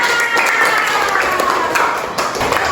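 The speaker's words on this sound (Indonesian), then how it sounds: "Benar, tepuk tangan." Brief burst of classroom applause from students during a science lesson, fairly loud and close, with scattered sharper claps within the clatter.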